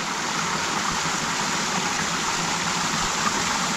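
Steady broadband rush of water flowing down a small river at a micro hydro intake, continuous and fairly loud with no pauses or voices.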